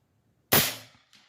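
A single sharp report from an Airforce Texan .308 big-bore air rifle fired at a coyote target in winter wind, loud and close with a quick decaying tail, followed by a faint distant impact.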